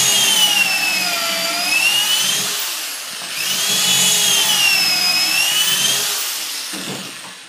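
A power drill bores holes in wood for a small chest, two loud sustained whirring runs close by, the motor pitch rising and falling, with a brief dip between them.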